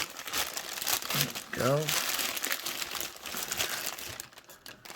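Plastic packaging for a home security camera being crinkled and pulled open, a continuous close rustling and crumpling while someone speaks briefly over it.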